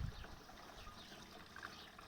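Water pours quietly into a garden sprayer tank with a faint, steady trickle and splash, distant and soft, with no talk.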